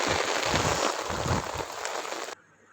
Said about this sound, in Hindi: बहुत ज़ोर से बारिश हो रही है, कुछ भी दिखाई नहीं दे रहा है चारों तरफ,